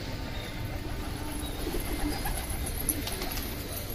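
Pigeons kept for fighting coo softly in a low, murmuring drone against a steady background hum, with no talking.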